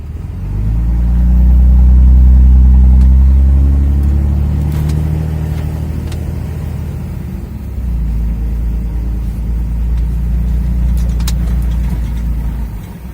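The exhaust of a 2003 Dodge Ram 2500 with the 5.9 Cummins diesel rumbles loud and deep while driving, swelling as it accelerates, then settling into a steady low drone.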